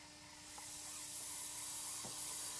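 Propane hisses steadily from a pressurized propane unit as a soft, continuous background rush that swells slightly and then holds level.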